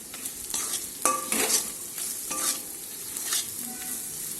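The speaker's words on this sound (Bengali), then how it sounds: "সব কিছু ভালোভাবে কষিয়ে নেব।" Salt and turmeric are stir-fried in a pan for a Bengali lote fish jhuri, giving a soft steady sizzle broken by several scraping strokes of a spatula, close and moderately quiet, with no voices.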